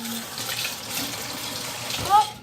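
Tap water running steadily into a kitchen sink, a continuous close splashing hiss with a brief surge near the end.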